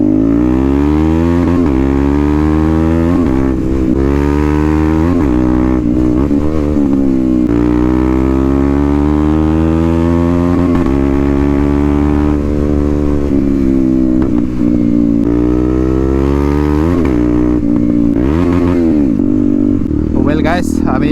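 KTM Duke 250 BS6 motorcycle with an Akrapovic underseat exhaust, riding at close range with a loud continuous engine drone rising and falling through gear changes and revs.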